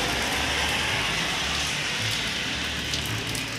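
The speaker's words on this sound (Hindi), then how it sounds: "देखा यस बारिश हो रही है यहाँ पर" Steady morning rain pours down after a night of heavy rainfall, a dense, even hiss of drops on surfaces that fills the whole stretch without pause or voices.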